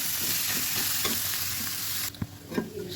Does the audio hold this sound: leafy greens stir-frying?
yes